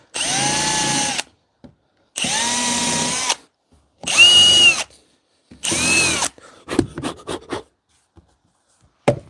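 A power drill runs in four separate bursts of whirring, each about a second long, while building a folding bench. A few sharp clicks and knocks follow.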